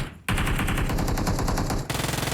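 Rapid automatic gunfire in an online shooter game, a dense sustained burst of shots fired close and loud, then a slower string of rhythmic shots, with no talking.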